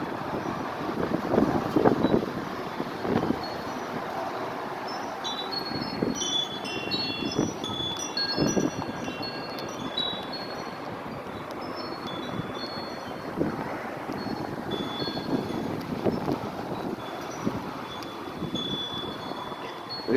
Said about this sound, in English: Look at all that free energy from the wind.